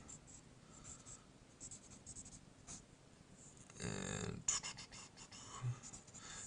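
A pen or marker scratches out equations by hand in short strokes and scribbles, close and fairly quiet, with a louder burst of rubbing partway through.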